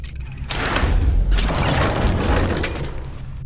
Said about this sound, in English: The explosions didn't affect the room.